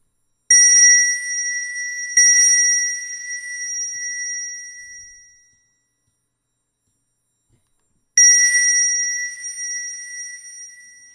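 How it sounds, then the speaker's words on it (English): Synthesized ringing bell tones from a simple polyphonic MIDI instrument: three bright chimes with pure harmonic overtones, two close together then one after a silent pause, each struck sharply and decaying slowly, heard alone. "now what we have is this kind of ringing bell sound"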